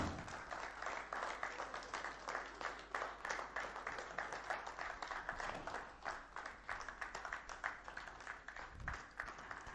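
Audience applause fills a stock listing ceremony on the NSE, a sustained dense patter of many hands clapping steadily for several seconds at moderate distance.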